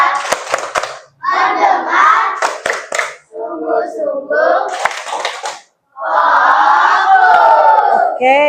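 Schoolchildren in a classroom perform a rhythmic clapping routine, with sharp clusters of hand claps alternating with loud group chanting that ends in a long shouted phrase.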